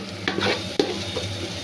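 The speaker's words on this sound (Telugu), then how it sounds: "ఇది బాగా వేయించుకోవాలండి పచ్చివాసన పోయే వరకు" Coconut paste and garam masala sizzle in oil for country-chicken biryani, a steady frying hiss broken by a few quick spoon scrapes and taps.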